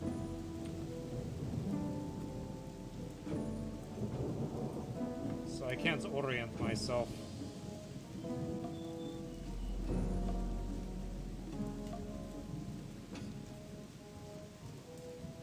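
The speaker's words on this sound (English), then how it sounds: "There's no sun out today because it's really rainy." Steady rain pours in the video game Gothic, with rolling thunder rumbling through the middle and again later. Someone talks over the downpour.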